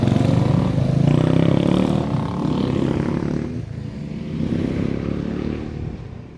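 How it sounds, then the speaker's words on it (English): Several off-road motorbikes roar by close up on a green lane, their engines loud and rough, the noise surging and then easing off. "we've got a lovely lot of green lane motorbikes"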